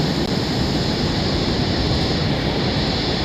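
An airplane takes off in a video game, producing a loud, steady roaring engine drone that holds constant throughout.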